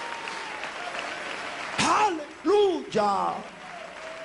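A church congregation at worship applauds in praise. Steady background clapping is broken by a few loud, shouted exclamations from a nearby voice.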